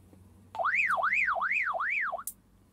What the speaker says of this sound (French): On a la sirène dans le haut-parleur.